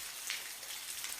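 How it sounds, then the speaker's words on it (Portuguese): Heavy rain falling at night, a dense steady hiss of drops with a few brighter spatters, close and continuous. "E para complicar ainda mais a noite, estava chovendo bastante,"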